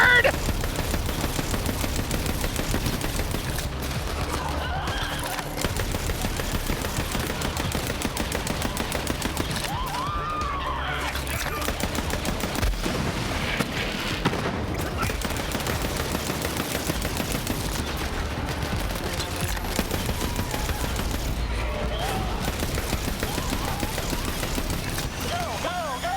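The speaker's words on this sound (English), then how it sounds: "Yeah, eat smart bullets," Smart-bullet gunfire from Borderlands 3 rattles in repeated rapid bursts over several stretches, mixed with game effects and music, while voices talk in the background.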